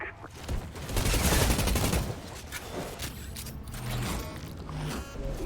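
Video game gunfire from Outriders comes as a dense, continuous burst of rapid shots with mechanical clatter, moderately loud, then eases into scattered shots and game effects.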